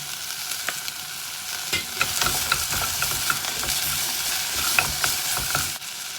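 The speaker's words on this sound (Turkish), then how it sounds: "Ve soğan biraz piştikten sonra kaju koyuyorum." Onions and cashews fry in a pan for a vegan broccoli soup, a steady close sizzle with irregular stirring scrapes and clicks throughout, sharply cut off just before the end.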